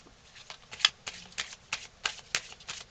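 Angel oracle cards being shuffled by hand, a quick series of crisp riffling flicks in an even rhythm, close and fairly soft with no talking.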